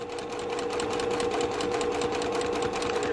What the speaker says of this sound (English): I'm stitching on the vinyl and then onto the fabric